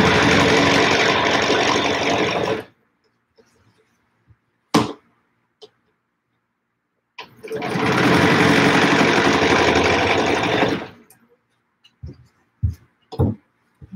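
A home sewing machine stitches a 3/4 inch quilting line on a square spiral quilt, running in two steady bursts of about two and a half seconds each, with light handling clicks and taps in the pauses.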